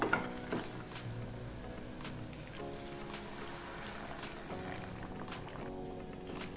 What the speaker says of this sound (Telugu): ఇందులోకి వేడి నీళ్లు పోసుకుందాము.